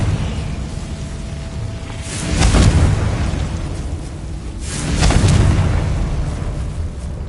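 Two loud booming blasts from the Confringo spell in Hogwarts Legacy, each a swelling explosive burst a few seconds apart over a background game soundscape.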